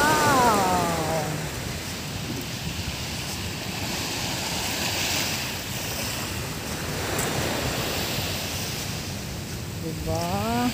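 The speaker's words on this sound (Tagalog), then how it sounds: "Doon mas malakas ang alo." Steady crashing surf washing on Dolomite Beach, loud and continuous, with brief voices at the start and end and wind gusting across the mic.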